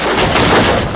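Gunfire in the horror game Until Dawn: a loud, close, dense burst of shots lasting about a second, with a sharper crack near the middle.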